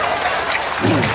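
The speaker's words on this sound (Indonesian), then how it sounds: "tepuk tangan" Audience applause during an Islamic religious question-and-answer lecture, a loud burst of clapping from the crowd, with voices mixed in near the end.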